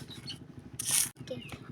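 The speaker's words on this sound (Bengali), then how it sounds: "মুড়িগুলা এইভাবে নিপেশ করে নিতে হবে" Puffed rice is crushed on a grinding stone, giving short close rasping rubs in uneven strokes with one louder gritty scrape in the middle.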